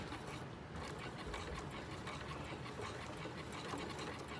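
A sewing machine stitches a lapped zipper, running in a steady, even whir with rapid needle chatter throughout, faint and close with no talking.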